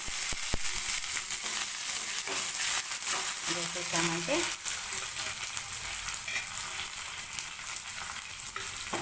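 Tempering crackles and sizzles in a hot pan for ridge gourd dal: a steady, close, hissing fry that runs throughout, with a brief voice heard over it.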